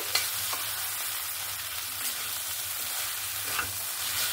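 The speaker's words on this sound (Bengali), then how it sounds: "দিয়ে আবারও ভালো করে নাড়াচাড়া করে নেব" Cabbage and fish head curry sizzles in a pan while being stirred, with a steady hiss broken by a few light scraping clicks, close and without talk.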